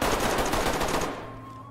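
A loud, dense burst of rapid gunfire in the tactical shooter Ready Or Not, fading out after about a second into a quieter tail.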